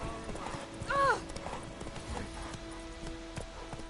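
Roach, a horse in Witcher 3, trots and gallops with quick, fairly faint hoof clip-clops, a short whinny near the start, and game sounds and a voice in the background.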